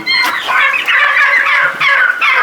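Turkeys gobble repeatedly and loudly at close range, their rapid warbling calls overlapping in bursts with no talking.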